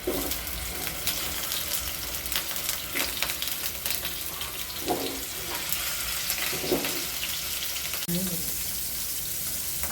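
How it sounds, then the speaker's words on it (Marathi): Paneer sizzles and crackles steadily in a little hot oil, a continuous close frying hiss with occasional stirring sounds and a faint voice. "आता आपण पनीर थोड्या तेलामध्ये फ्राय करून घेणार आहोत"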